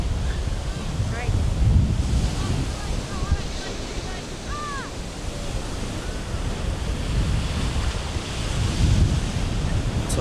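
Ocean waves surge and break at a Monterey beach as steady wind buffets the microphone, and the rolling roar swells and eases. Faint voices and a few bird chirps sit under the surf.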